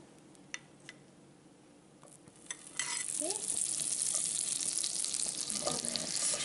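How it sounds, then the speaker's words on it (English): Bread lands in a hot pan with vegan butter and starts to toast, and a loud, continuous sizzle rises after a few quiet clinks and scrapes. "I'll toast my bread in the same pan"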